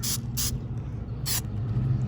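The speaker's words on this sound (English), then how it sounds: "So I'm just going to spray it, put a couple coats on" Three short bursts of hiss from a spray can coating Jeep Wrangler TJ fenders, two close together and one after a pause, over a steady low background hum.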